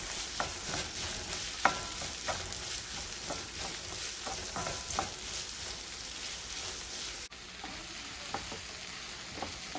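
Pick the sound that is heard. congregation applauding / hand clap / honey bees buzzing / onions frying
onions frying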